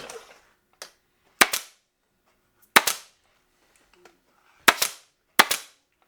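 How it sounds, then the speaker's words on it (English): A staple gun fires into fabric on a chair arm, with about five sharp, loud snaps at irregular intervals plus a couple of softer clicks, close up with near silence between shots. "I'm going to staple right along here."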